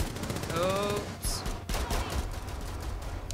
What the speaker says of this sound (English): I accidentally started shooting my teammate.